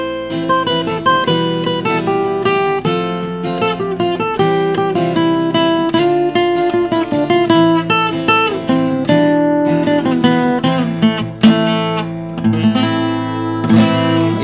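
A Yamaha acoustic guitar costing 1.3 million rupiah, played in Bali as a continuous melodic passage of plucked notes and strummed chords, steady and moderately loud throughout with no voices.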